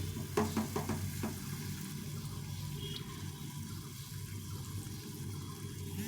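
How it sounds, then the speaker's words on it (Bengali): Egg and flour batter fries gently in a pan over low heat, giving a steady, soft hiss that runs throughout at moderate level, with a few brief clinks near the start. "লো হিটে এটাকে ভেজে নিতে হবে"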